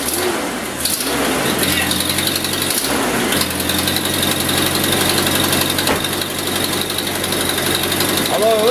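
A motorhome engine with an intake manifold leak runs steadily at idle, a close, loud mechanical drone with a rough, hissing edge and faint knocking, unchanging throughout.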